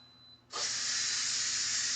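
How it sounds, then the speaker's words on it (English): After a quiet moment, steam suddenly bursts out of a pot of cooked potatoes with a loud, steady hiss that keeps going without a break. "So we're going to let the steam out of these."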